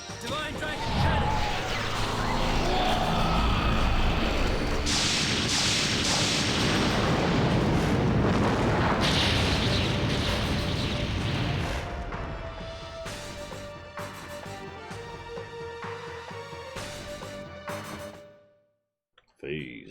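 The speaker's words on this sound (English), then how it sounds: "Divine Dragon Cannon!" Massive explosion of the Divine Dragon Cannon attack in the video game The Legend of Dragoon, a loud sustained roaring blast with crashing debris that fades into ringing game tones and music before cutting out.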